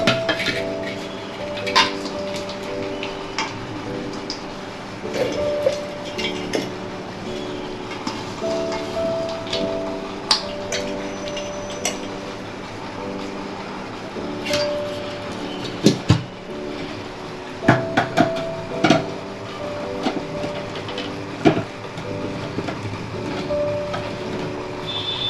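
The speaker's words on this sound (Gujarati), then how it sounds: "હવે આપણે મિક્સરમાં ક્રશ કરી લઈએ" A kitchen mixer grinder crushing broken, fried wheat-flour muthiya for laddoo, a steady whirring motor hum overlaid with rattling, clanking knocks from the jar throughout.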